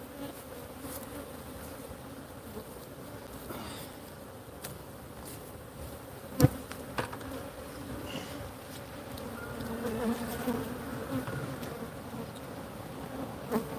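A steady, low droning buzz of many honeybees around an open hive fills the air, constant and close, with occasional faint knocks and rustles of hive handling.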